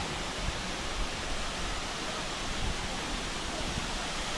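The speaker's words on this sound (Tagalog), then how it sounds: "Olan-Olan Falls" Ulan-Ulan waterfall in Sampao, Almeria, Biliran, heard as a steady, full rushing roar of falling water that holds an even level throughout with no talk.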